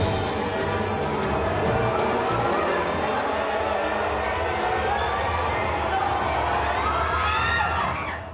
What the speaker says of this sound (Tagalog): Napuno ng sigawan, tili at tawanan ang Centennial Hall ng University of Baguio